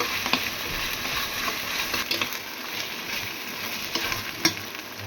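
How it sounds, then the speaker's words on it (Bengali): Ginger, garlic and cumin sizzle in a pot for biryani while a spoon stirs and scrapes through them, making a steady frying hiss with occasional sharp knocks. "আদা রসুন জিরে সব মিক্স সুন্দর করে ভাজা ভাজা করে নিতে হবে"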